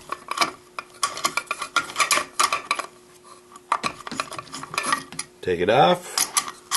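A 1/2-inch nut driver removes a brass catcher mount from a rifle, giving close metallic clicks and scraping with a short ratcheting whir near the end, under a voice.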